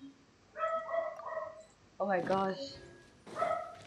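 Dogs in the game Genshin Impact give a few short bursts of barking and yipping, close and fairly loud, with a person exclaiming in surprise between them.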